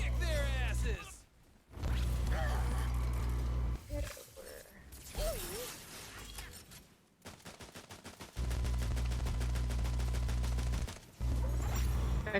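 Heavy gunfire barrage in the looter-shooter video game Tiny Tina's Wonderlands: loud bursts of rapid machine-gun fire and blasts come in several stretches separated by brief lulls, with game voices and effects mixed in.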